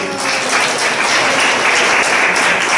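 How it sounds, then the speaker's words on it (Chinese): A church congregation at a Sunday service in Yongle Town breaks into loud, continuous applause, dense overlapping clapping filling the room for a few seconds. "来给他一个掌声。"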